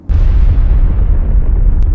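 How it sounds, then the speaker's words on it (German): A bomb explodes in the New Mexico desert during the Trinity atomic test, a single loud, sustained deep rumbling blast that rolls on without pause. "In der Wüste des US-Bundesstaates New Mexico explodiert eine Bombe."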